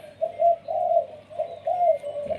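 A spotted dove cooing in a repeated rhythmic series of soft, low hooting phrases, fairly close, with faint background noise; a caged decoy bird calling.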